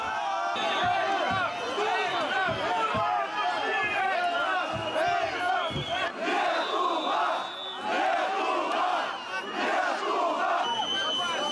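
A large protest crowd outside the Lithuanian parliament in Vilnius shouts and chants continuously, a dense wall of many voices with rising yells and cries, close and loud for the whole stretch.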